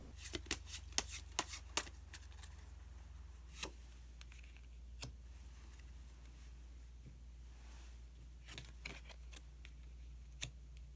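Osho Zen tarot cards are shuffled and drawn by hand, with a quick flurry of soft crisp card flicks at the start, then a few scattered taps and slides over a quiet low hum.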